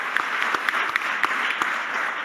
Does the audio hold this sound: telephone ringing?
no